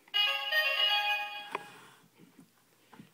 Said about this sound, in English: it makes the same ring that you get with the other roleplay gear